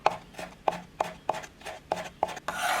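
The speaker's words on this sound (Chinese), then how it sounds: "再切成碎一点的胡萝卜末" Knife mincing grated carrot shreds on a cutting board, about nine sharp, evenly spaced chops close up, ending in a brief scraping rustle.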